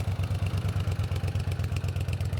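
A 1978 Honda CX500 motorcycle started from cold settles into a steady, close idle, its engine pulsing in an even, rapid beat with mechanical clatter on top and no voices.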